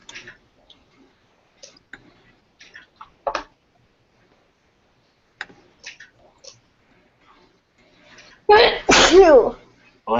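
A single loud, close sneeze bursts out near the end of an otherwise quiet stretch in a classroom exam review, after scattered soft clicks and faint murmuring.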